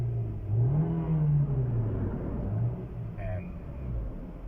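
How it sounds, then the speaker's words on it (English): A 2023 Nissan Xterra with a 2.5L engine revving in drive, a smooth rising then falling engine drone heard from inside or near the vehicle, fairly loud and steady with a faint whir. "Let's rev it up"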